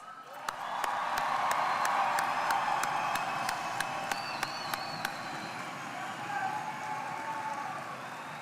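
Crowd applause and cheering at a high school graduation ceremony, a broad roar of clapping and scattered whoops swelling loud then easing slightly, with sharp distinct claps popping out near the front.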